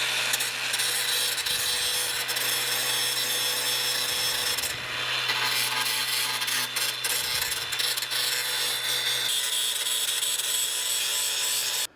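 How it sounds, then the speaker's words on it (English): An angle grinder works over a metal John Deere lawn mower part, cleaning it up before welding. The harsh, steady grinding runs close and loud throughout, its pitch and pressure shifting slightly as the disc moves across the surface. "now I'm just grinding this part to clean it up, to get a good weld"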